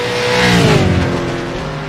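A 600-horsepower V8 Supercar engine revs hard in the DiRT Rally racing game, a loud continuous roar with rising and falling pitch as the car accelerates, steady and close throughout.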